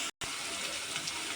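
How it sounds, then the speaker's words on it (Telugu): Water is poured into rice for a restaurant-style fried-piece biryani, a short steady splashing pour that begins after a brief silence. "2 గ్లాసుల మీద ఇంకాస్త అయితే వాటర్ అయితే వేసుకుంటాను"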